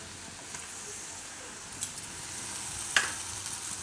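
Chillies frying in a pan as yogurt goes in, a quiet steady sizzle with a few sharp crackles and pops rising over it.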